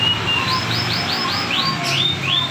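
A young male songbird about five and a half months old, moulting into adult plumage, sings a close, loud run of repeated upward-sweeping whistled notes, with a few slurred phrases at the end.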